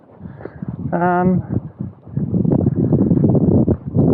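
Gusty wind buffeting a microphone with a low rumble throughout on the fells of Carrock Fell and High Pike, while a person speaks over it.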